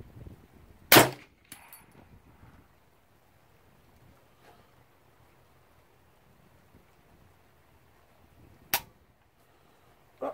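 A supersonic .45 round fired from a Vepr rifle outdoors: two sharp, loud gunshot cracks about eight seconds apart, each with a brief echoing tail, and quiet wind noise in between.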